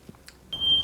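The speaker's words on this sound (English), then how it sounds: "Smoke detector." A smoke detector sets off a sharp, steady high-pitched alarm tone partway through, after a few faint knocks and rustles.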